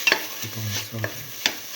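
Split mung beans and tomatoes being sautéed in a pan, with a few scraping stirs of a spoon and a soft low sizzle beneath, close and fairly quiet.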